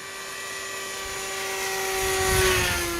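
Hobbyking Bixler 2 RC model plane flying outdoors, its electric motor giving a steady high whine that swells slightly as it passes nearer, with wind noise underneath and no speech.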